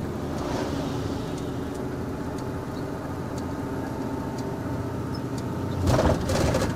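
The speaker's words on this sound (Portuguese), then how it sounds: "os dois estágios de freio motor ligado" A VW 25.390 truck creeps downhill on a wet mountain road in low fifth gear with both stages of its engine brake engaged, giving a steady low rumble with faint ticking, then a louder surge near the end.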